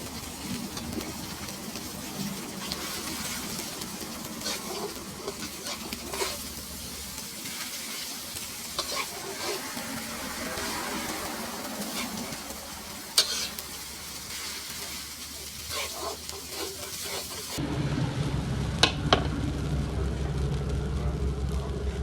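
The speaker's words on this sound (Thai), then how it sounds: "จากนั้นใส่ข้าวลงไปผัด ผัดให้ข้าวและพริกเผาเข้ากัน" Rice being stir-fried with roasted chili paste in a pan, a steady sizzle with scraping stirs throughout, growing louder and denser near the end.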